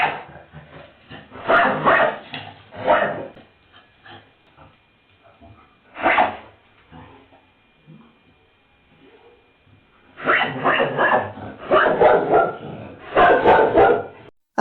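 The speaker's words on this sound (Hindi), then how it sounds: "उस डॉग ने अनयूजुअल बिहेवियर दिखाया, मतलब जोर जोर से भौंकना शुरू किया और फैमिली को अलर्ट कर दिया" A dog barks loudly in bursts, with several sharp barks early, a lone bark in the middle, then a rapid run of barks near the end, separated by quieter gaps with faint background noise.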